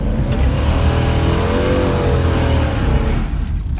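A 1996 GMC demolition derby truck's engine revs hard and close, a loud rough growl that holds for a few seconds and then falls away.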